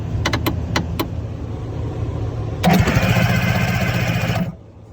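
A Kawasaki JS550 jet ski starter cranks with a weak, partly dead battery: a few clicks, then a sluggish, laboured whirring grind for about two seconds that stops without the engine catching. Loud and close, with no talking.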